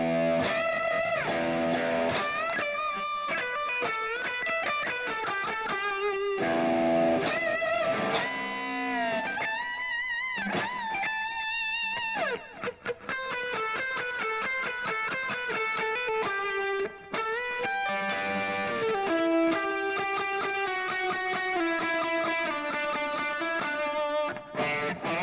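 Electric guitar playing the melodic second half of a song solo, with bends and fast runs in a moderately distorted tone, played continuously with no talking.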